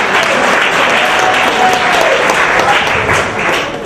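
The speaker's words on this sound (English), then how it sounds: "Give her another round of applause." Loud, dense applause from an audience at a retirement celebration in Marina del Rey, sustained clapping close by for several seconds.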